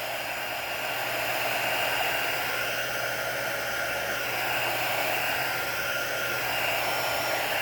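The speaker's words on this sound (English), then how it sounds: "So you don't want to put the heat gun too close." A heat gun blows hot air in a continuous steady whoosh, loud and close, held near a door hanger craft project with no one talking.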